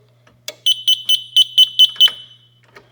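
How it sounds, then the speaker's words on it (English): A fire alarm panel emits a series of seven sharp, evenly spaced electronic beeps after a resistor is pulled from its output circuit, loud and close, followed by faint handling noise. "You can silence the beeping."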